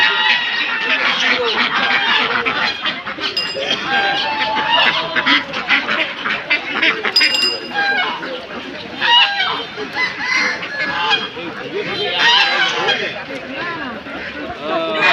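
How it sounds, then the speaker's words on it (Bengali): Ducks quack repeatedly among chickens at a busy duck and chicken market, loud overlapping calls mixed with people talking throughout. "দাদা এগুলো কি পাতি হাঁস"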